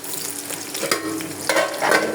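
Onions set aside for tempering hit hot oil over boiled beef curry, giving a loud, dense sizzle that swells twice as more goes in, close and continuous with no voices.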